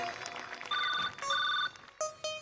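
A telephone ringtone plays in two bursts of bright repeated electronic tones, followed by a short pause and two sharper chime hits, heard fairly clearly with no talk over it.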